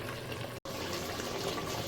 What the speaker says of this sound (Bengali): এদিকে এখন মাংসতে পানি দিয়ে মুখটা লাগিয়ে দেবো